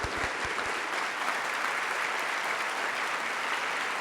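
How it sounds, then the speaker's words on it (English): Sustained audience applause at a university campus presidential update, a steady dense wash of clapping from a large standing crowd, loud and even throughout with no talk over it. "Would you stand and applaud and honor him for what he has done?"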